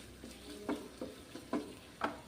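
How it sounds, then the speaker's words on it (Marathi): A masala mixture is stir-fried in a pan for a vegetable curry gravy, with about five quiet, regular spatula scrapes and stirs over a faint low sizzle, heard up close. "एक पाच मिनिट आता व्यवस्थित आपण हे मिश्रण परतून घेणार आहोत"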